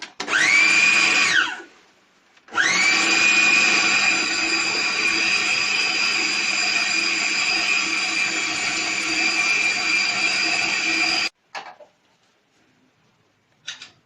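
An electric chopper whirs loudly for about a second, pauses, then runs in one long steady high-pitched burst, chopping minced meat with roasted ground chickpeas, and cuts off to near silence with a couple of brief clicks.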